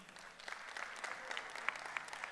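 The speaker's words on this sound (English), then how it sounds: "Give yourselves a round of applause for being here." Audience at a corporate event marking two companies merging, clapping for themselves: fairly faint, dense applause from a hall, with a few sharper claps near the end.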